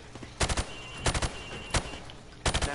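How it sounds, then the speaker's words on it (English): Gunfire from hip-fire at targets in Call of Duty 4, heard as four separate bursts of rapid shots, each a tight cluster of sharp cracks, spaced about half a second to a second apart, loud and close with no talking. "Now, shoot at the targets while firing from the hip."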